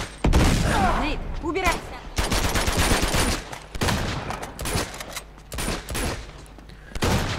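Rapid bursts of gunfire in Uncharted 2: Among Thieves crackle back and forth in a loud shootout, with repeated volleys and brief pauses between exchanges.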